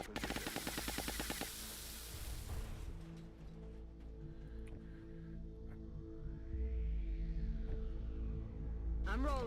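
Rapid automatic gunfire rattles in the strategy game Long War, a dense loud burst over the opening seconds that gives way to quieter mechanical rumble and a faint sweeping tone before another short burst at the end.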